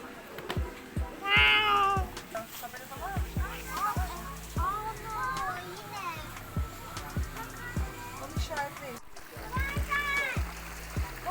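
A cat meows several times, drawn-out and plaintive, over a noisy background of splashing water, rhythmic thumps and distant voices.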